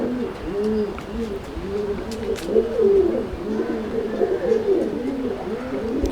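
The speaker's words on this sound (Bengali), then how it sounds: "এই হচ্ছে বন্ধুরা মাদি পায়রা" Repeated soft, throaty coos from a female pigeon in a steady rolling rhythm, close by, with faint background noise and no talking.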